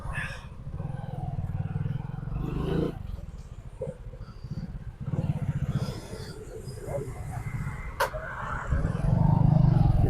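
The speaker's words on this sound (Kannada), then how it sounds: "ಗಾಡಿ ಸ್ಟಾರ್ಟ್ ಮಾಡ್ಬಿಟ್ಟು ಮೂವ್ ಮಾಡ್ತಾನೆ ನಮ್ಮ ಹುಡುಗ" A Hero Passion Pro motorcycle starts up and rides off, its low engine rumble running steadily and swelling into a louder rev near the end, with faint voices in the background.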